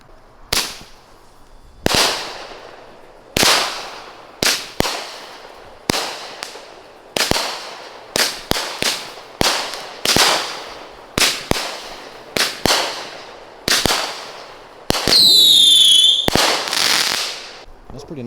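Consumer fireworks (Blaze It by Pyro High) at a Fourth of July backyard show, firing a rapid series of about fifteen loud, sharp booms and crackling bursts, ending with a high piercing whistle before the final reports.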